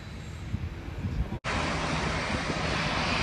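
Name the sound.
aircraft approaching Phuket airport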